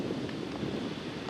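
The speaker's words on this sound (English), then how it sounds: "Beautiful day, but really super windy." Strong wind blowing across an open farm near a pond and maple trees, a steady broadband roar and microphone buffeting that stays dense and loud throughout the short moment.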